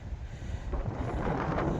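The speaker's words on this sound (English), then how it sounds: "Look at how strong this wind is." Strong gusting wind buffets the microphone on the exposed Cnicht ridgeline in Wales during rain, a loud, continuous rumbling roar that builds and swells without letup.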